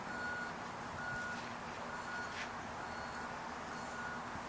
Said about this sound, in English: you hear the school bus backing up, which was a distraction for him